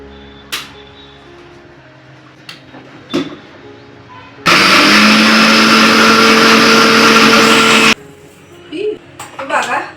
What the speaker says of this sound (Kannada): ಇವಾಗ ಇದನ್ನ ಹಾಕ್ಬಿಟ್ಟು ನಾನು ಮಿಕ್ಸಿಗೆ ಹಾಕ್ಕೊತೀನಿ